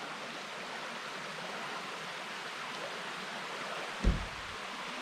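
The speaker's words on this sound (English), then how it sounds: "Beautiful creek just streaming by." A mountain creek at high elevation streams by in a steady, broad rush of flowing water, constant and fairly close, with a brief low thump near the end.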